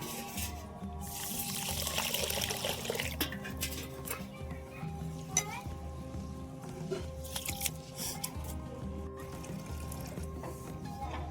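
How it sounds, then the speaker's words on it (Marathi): Ration rice is washed in water, with faint sloshing, trickling and pouring sounds and a few small knocks against the vessel, all quiet and close. "दोन ते तीन पाण्यानं भरपूर मस्त चकचक धुवून घेतो हा राशनचाच तांदूळ आहे"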